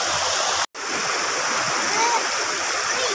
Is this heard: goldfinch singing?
no